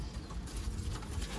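Sialkoti pigeons cooing softly in a low, continuous murmur, close by with steady ambient noise and no voices.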